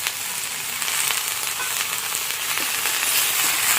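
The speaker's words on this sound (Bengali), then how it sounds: "হালকা একটু ভেজে নিতে হবে, শিম যেহেতু নরম সবজি বেশি ভাজতে হবে না" Flat beans, slit green chilies and chopped tomato sizzle in hot oil over browned onion and garlic, a steady close frying hiss with faint stirring scrapes and no talking.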